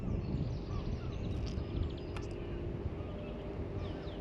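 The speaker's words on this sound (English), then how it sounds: "Got a few birds showing an interest in the drone." Birds give faint, distant caws and calls over a steady broadband hum from a hovering drone outdoors, with a few sharp chirps standing out briefly.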